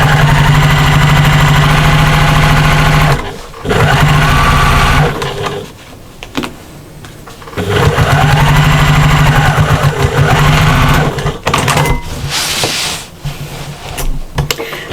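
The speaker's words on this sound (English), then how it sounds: "turn your work, and then we're stitching along the bottom edge" A fast sewing machine stitching along the bottom edge of a patchwork shopper bag: loud, close, rapid mechanical whirring in long bursts separated by short pauses for backstitching and turning the work.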